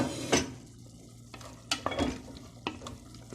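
Potatoes cooking in a pan are stirred with a utensil, giving soft sizzling under several scraping, clattering stirs close by, with no talk.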